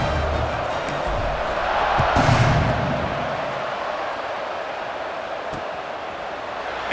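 Stadium crowd in College Football 26 during a Texas Tech versus Houston game, a broad roar of cheering that swells briefly and then settles into a sustained hum beneath the game audio.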